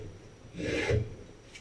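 A spokeshave, worked by hand, takes a single shaving stroke off a wooden bow, a brief close scraping rasp that swells and fades within a second.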